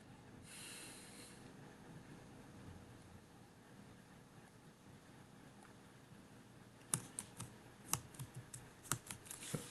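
Java code is typed on a computer keyboard, with a few sharp, quiet key clicks arriving in an irregular run near the end after a stretch of faint background hush.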